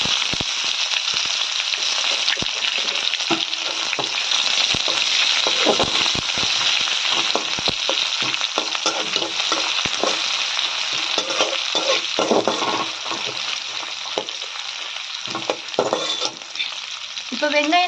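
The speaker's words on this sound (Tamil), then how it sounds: "நல்லா வதங்கட்டும் இப்போ வெங்காயம் நல்லா வதங்கிடுச்சு" Sliced onions sizzle steadily in hot oil for a Tamil-style spring onion thokku, with a spatula scraping and stirring through the pan in irregular clicks; no voices.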